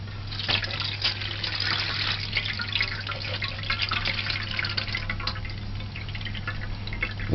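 Rinse water poured off brown rice, a steady close splashing trickle with drips over a low constant hum, no talking.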